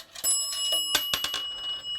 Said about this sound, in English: The dime would actually go through its mechanisms and its tests, and it would hit that bell.